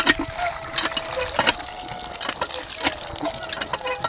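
A hand tubewell on a Padma river char is pumped in irregular squeaky, clanking strokes, each followed by a splash of water. The strokes are close and fairly loud over a quiet outdoor background.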